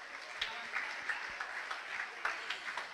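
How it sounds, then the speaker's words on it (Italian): Faint, steady applause from a studio audience, made up of a continuous patter of many hands with a few sharper claps standing out, holding through the whole stretch. "Un applauso, bravissimi."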